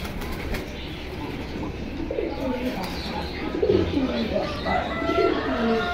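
Cooing of a male pigeon at a busy pigeon market, soft repeated throaty coos rising out of a dense background of crowd murmur and bustle, moderately near.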